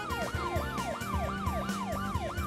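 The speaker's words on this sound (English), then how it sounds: "Maybe it's because this thing has sirens, so it kind of interferes with that." A police car siren on a modded car in the BeamNG driving game wails in rapid repeating sweeps, loud and close, with engine rumble underneath and no talking.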